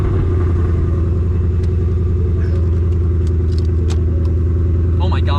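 2015-2022 Ford Mustang driving with a steady, deep engine rumble heard from inside the car, constant and loud throughout, with a brief faint rattle near the end.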